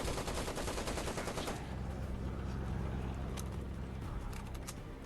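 Rapid automatic fire from an AS-44 prototype Soviet assault rifle in the shooter game Projekt Z, a dense, loud rattle of bursts that thins toward the end with a few sharper cracks.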